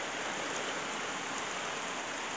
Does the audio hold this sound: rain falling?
yes